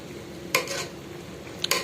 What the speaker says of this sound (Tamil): இப்போ இதை நல்லா கிண்டி விட்டுக்கலாம்.